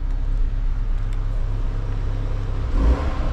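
A Renault Megane RS Trophy engine idles with a steady low rumble heard close up, swelling briefly into a louder throaty burst near the end.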